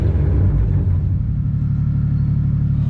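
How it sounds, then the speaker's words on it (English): A 2JZGTE VVTi engine with a GTX35 turbo cold-starting on ethanol, a loud, close, rough idle rumble with a lumpy, throbbing pulse that settles slightly after the first second. "you gotta love those ethanol cold starts"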